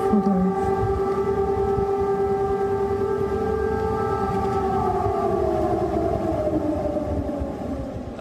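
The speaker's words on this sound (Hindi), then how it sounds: "इस सायरन की आवाज जो कीव में बज रहे हैं" An air raid siren wails at night over Kyiv, a loud, sustained tone whose pitch slowly slides and wavers across the whole stretch, with a dense rumble of background noise beneath it.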